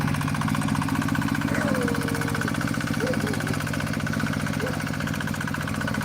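A new tractor plowing a flooded paddy field, driven by a child, gives a steady, loud diesel chug with a rapid knocking rhythm. It runs continuously throughout, with no one talking.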